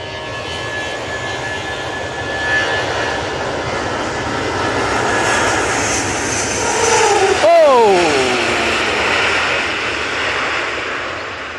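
British Airways jet engines spool up for take-off, a loud broadband roar with rising tonal whine that swells and shifts sharply near the end, with a voice talking over it.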